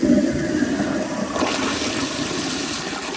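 A miniature 10-inch Berlin toilet flushes a paper towel, giving a steady, close rush of gurgling water that holds fairly level from start to finish with no voices.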